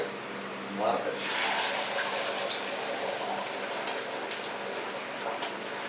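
Egg curry mixture poured into a hot pan, giving a steady hiss and sizzle that swells after a second and keeps going at even strength, close by.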